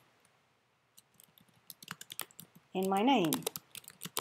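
Fingers type a document title on a computer keyboard in Google Docs, a quick, irregular run of close, crisp key clicks that keeps going as someone briefly speaks over it.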